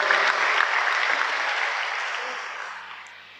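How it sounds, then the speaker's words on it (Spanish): Congregation clapping in church during a worship service, a steady wash of dense applause that gradually tapers off over a few seconds. "¿Por qué no le da un fuerte aplauso al Señor?"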